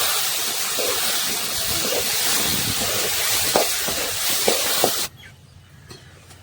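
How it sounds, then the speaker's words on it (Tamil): Chutney ingredients sizzle and hiss steadily while being sautéed in a pan at an outdoor garden cooking spot, with occasional stirring clinks, before the sizzle drops away abruptly near the end. "சட்னிக்கு நல்லா வதக்கியாச்சுங்க"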